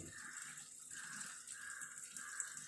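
Water pours steadily into a 7 kg LG top-load washing machine refilling for its rinse cycle, a faint continuous rushing with gentle rising and falling swells, heard alone without any talking.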